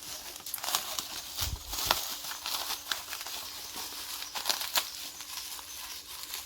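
Plastic wrapping and packing are pulled off a grafted cactus delivered by parcel, giving close, continuous crinkling and rustling with a few sharper crackles and soft thumps.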